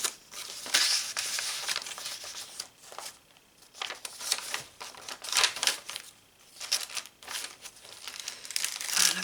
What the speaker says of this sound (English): Another paper bag.